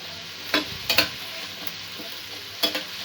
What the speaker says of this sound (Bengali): সব উপকরণগুলো একটু ভালো করে মিক্স করে নেব।